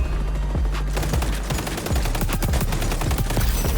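Rapid automatic gunfire and shotgun blasts from the shooter video game XDefiant, loud and continuous, with rattling bursts packed close together.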